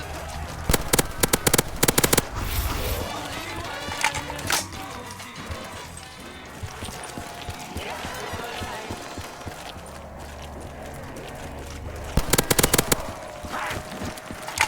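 Rapid bursts of AK rifle fire in a custom zombies map of a video game crackle loudly near the start and again near the end, with a steady, dense game soundscape running between them.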